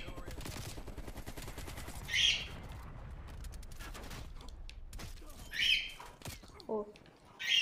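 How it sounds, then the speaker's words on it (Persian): Hip-fire gunshots in Call of Duty Black Ops Cold War come as a few sharp, loud bursts standing out over steady game noise, with someone speaking at times between them. "یه هیپ فایر بزنیم"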